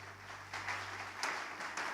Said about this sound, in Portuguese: Nós podemos, então, aplaudir o Senhor pela vida dos nossos voluntários